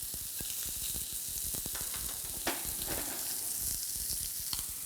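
Sirloin steak frying in a hot pan, a steady crackling sizzle full of rapid, irregular pops and spits that runs continuously at close range with no talking.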